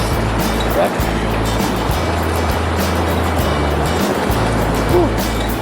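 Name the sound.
creek water flowing at Rabbit Creek crossing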